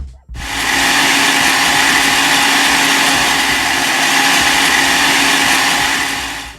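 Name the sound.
blender blending ginger and garlic for green seasoning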